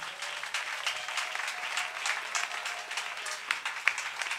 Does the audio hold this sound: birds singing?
no